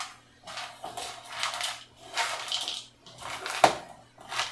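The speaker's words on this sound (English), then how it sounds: "I drained and rinsed a can of kidney beans. And I'm going to just give that a stir." A spoon stirs drained, rinsed canned kidney beans in a pot, making soft wet squelching and scraping strokes in separate bursts with a clink near the end, close and fairly quiet.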